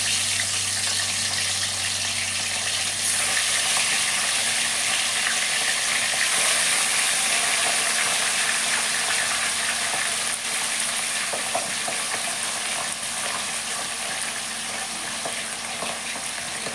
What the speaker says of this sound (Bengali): তেলটা খুব সুন্দর গরম হয়ে গেছে, এইবার আমি এক এক করে মাছগুলোকে ভেজে নিচ্ছি।